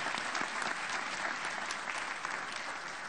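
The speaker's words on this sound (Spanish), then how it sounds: "pedimos renovar ese aplauso porque realmente es significativo esto que estamos viviendo" A dense, even round of audience applause fills a hall at the launch of a free student transit pass in the city of Santa Fe, steady clapping heard in the distance with no talk over it.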